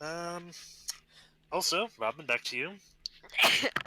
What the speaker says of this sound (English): I sneezed my headphones off.